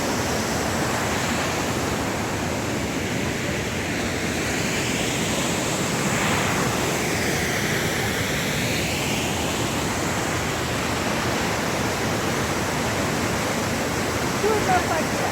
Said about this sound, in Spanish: Esta es la cascada Turno Facha.